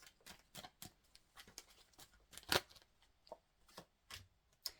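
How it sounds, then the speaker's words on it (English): Tarot cards are shuffled in a quick run of soft flicks and taps close up, with one louder riffle midway through. "Let me just shuffle again."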